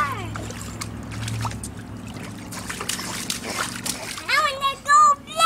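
A young child walks through water with light splashing and trickling, while children's voices chatter over it and rise into high-pitched speech near the end.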